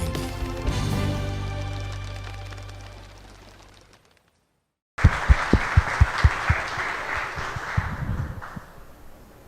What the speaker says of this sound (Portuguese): Palmas para os produtores mineiros